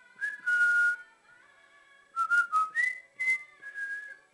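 Someone whistles a series of short, clear melodic notes in two bursts separated by a pause, close and alone with no talking.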